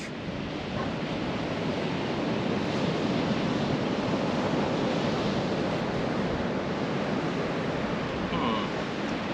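Steady broadband wash of ocean waves on a beach at Portsmouth Island, North Carolina, continuous surf roar with some wind rumble and no distinct individual breakers, fairly loud and close throughout.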